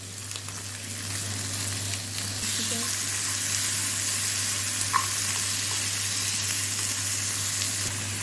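Peas, potatoes and mixed vegetables go into a pan of sautéed onions for a light butter soup. Steady loud sizzling and frying hiss swells as they land and keeps going under a low constant hum, with no talking.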